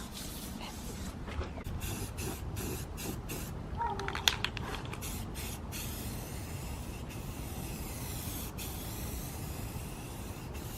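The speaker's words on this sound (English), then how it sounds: "putting the first coat of primer on" Steady hiss of a spray gun laying down the first coat of primer on a car bumper, continuous and fairly close across the whole stretch, with a faint voice briefly in the background.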